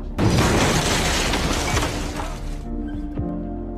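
A booby-trap bomb blows up in the war film Mosul, a huge close blast bursting and shattering at once, then a long rumbling, crackling decay as debris settles and fades over several seconds.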